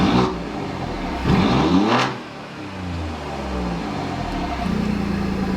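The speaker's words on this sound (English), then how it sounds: "let's give it a couple revs and see if we can tell any difference from a standstill in the way that the car sounds" An Alfa Romeo Giulia Quadrifoglio with a performance air filter is revved at standstill, giving two sharp rising blips that fall back to a steady idle hum, close and loud.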